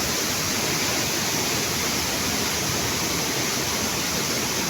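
Dagook Falls, a waterfall in Catigbian, Bohol, Philippines, pours in a steady, dense broadband roar of falling water that stays constant and loud throughout, with no voices over it.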